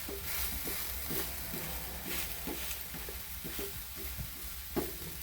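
Instant dosa roasts on a hot pan with a soft, steady sizzle under faint scraping and tapping at irregular intervals, quiet and close with no talking.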